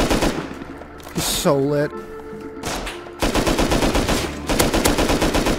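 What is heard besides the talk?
rifle gunfire in the video game Rust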